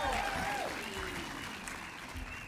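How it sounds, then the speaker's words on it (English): A political party congress crowd applauds steadily, a dense wash of clapping that fades slightly over a couple of seconds, with a voice faintly audible over it. "I think they deserve a round of applause"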